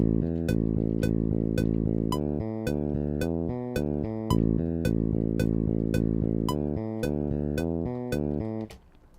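Programmed bassline in Cubase where each chord's second note is its fifth, steady evenly spaced synth bass notes in a repeating pattern, loud and alone, ending abruptly.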